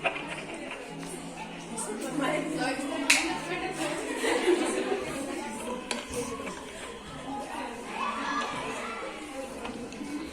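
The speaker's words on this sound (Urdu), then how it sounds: "تالیاں بجا، تالیاں بجا" Scattered clapping from a school audience at a speech competition in Sopore, mixed with children's chatter, giggles and nearby voices, fairly faint and uneven.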